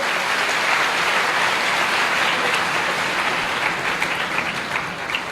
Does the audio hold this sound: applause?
yes